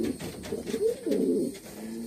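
Thief pouter pigeon cooing up close, a soft throaty series of low rolling coos rising and falling over about two seconds, heard on its own without talk.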